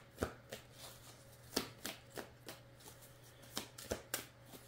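Tarot cards are shuffled by hand in a quiet room, with a steady run of soft slaps and riffles at an uneven rhythm. A low hum sits underneath.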